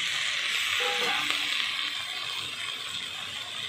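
Fried potatoes tipped into a pan of spice paste for a prawn curry: a loud, steady sizzling hiss close by, with a brief clack of a utensil partway through.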